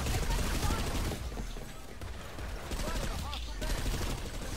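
Rapid bursts of gunfire in a multiplayer shooter video game, dense overlapping shots near and loud, easing briefly mid-clip before picking up again, with players' voices talking underneath.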